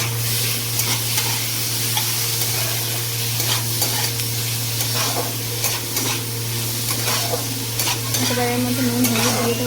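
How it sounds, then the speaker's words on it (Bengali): Onion, tomato and ginger fry together with cardamom and cinnamon in a pan, a continuous dense sizzle over a low steady hum, with occasional spoon scrapes as the mix is stirred, close by and no voices. "এই পেঁয়াজ টমেটো আদা সমস্ত কিছু একসাথে দিয়ে না ভেজে নেব। একসাথে দিয়ে ভাজবো।"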